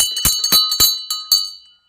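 A hand bell on a kulfi ice cream cart rings in quick, bright clangs, about six strikes in under two seconds, close and loud with lingering metallic tones.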